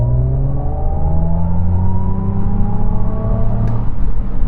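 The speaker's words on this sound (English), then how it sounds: "We're in sports mode, left on the brake for the throttle, sort of launch control, go." Mercedes 250 Plus accelerating hard from a launch-control start in sports mode, a loud near whine rising steadily in pitch with a rough rumble beneath, continuous and alone.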